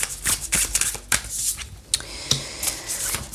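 Tarot cards shuffled and handled by hand at close range, a run of crisp riffling flutters and soft slaps coming in uneven bursts with no voice over them.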